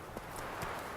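Hoofbeats of the horse Roach galloping in The Witcher 3, a steady clip-clop rhythm of several strikes over a continuous wash of ambient game noise.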